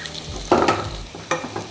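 Onions and green chillies sautéing in a pan give short bursts of sizzle as they are stirred, two louder scraping pushes standing out over a softer frying hiss.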